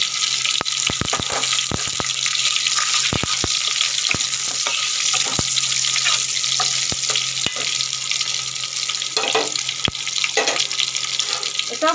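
Vegetables fry in a pan for a vegetarian milk-and-vegetable dish, a steady close sizzle broken by frequent sharp scraping clicks of a stirring utensil.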